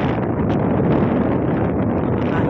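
Strong wind at Monta Bay buffets the microphone in a continuous, loud, close roar with slight gusting swells and no other sounds.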